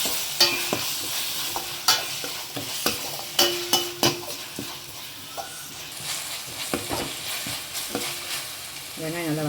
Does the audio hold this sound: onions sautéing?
yes